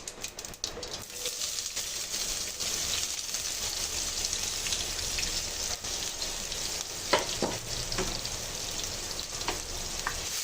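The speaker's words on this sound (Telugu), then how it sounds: "దీన్ని ఒకసారి కలుపుకుంటూ ఫ్రై చేసుకుందామండి" Onion, green chili and curry leaves frying with cumin in an oiled pan, a dense crackling sizzle throughout, punctuated by scraping stirs and a few louder knocks of a spoon.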